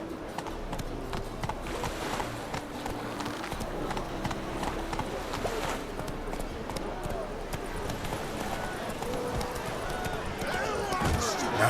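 Hooves of Roach, Geralt's horse in The Witcher 3, clatter in a fast galloping rhythm throughout, close and fairly loud, with a voice talking over part of it.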